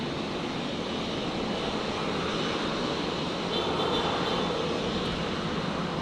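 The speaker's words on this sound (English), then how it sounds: "That private jet already. Learjet. It is a Learjet. Learjet 60." Learjet 60 private jet at Brisbane airport, a steady broadband engine roar heard from a distance that holds constant and swells slightly near the middle, with no talk.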